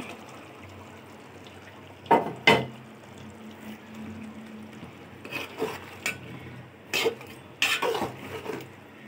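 Fried shol fish tipped into a simmering bottle gourd curry in a pot, with a few sharp clatters of a utensil against the pan and light stirring scrapes spread across a quiet kitchen background.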